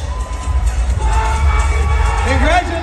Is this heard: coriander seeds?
no